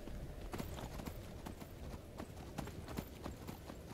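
Horse hooves clip-clop steadily in the Skyrim video game, a fairly close, even rhythm of soft knocks sounding alone with no talk over them.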